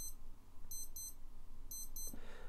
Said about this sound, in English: that's just to give you an idea of the sound of the alarm